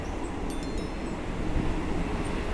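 A shuttle train with a wooden interior runs from Padang Besar toward Hat, giving a steady, close rumble of wheels and carriage with wind-like rushing noise throughout and no voices.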